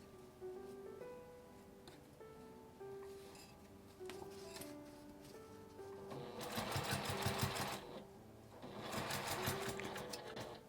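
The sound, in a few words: sewing machine stitching a flap mini pouch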